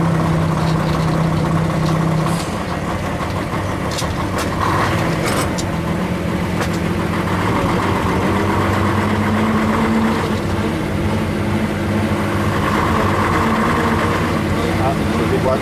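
A vintage Saurer bus engine idles with a steady low rumble and throb, continuous throughout, while someone talks over it.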